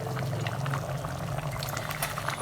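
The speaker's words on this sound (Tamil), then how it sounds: "இன்னும் ஒரே 1 நிமிஷம் கொதியட்டும்." Sambar without lentils, made for idli and thickened with gram flour, simmers in a pot with a steady bubbling, hissing wash of liquid, close and continuous with no talk.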